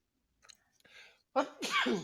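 A single sharp sneeze preceded by a couple of short breathy intakes, close and loud, ending in a trailing exhale.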